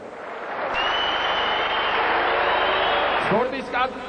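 An audience in a sports palace gives a dense, sustained burst of applause to welcome the Armenian national team, with a voice briefly rising over it near the end.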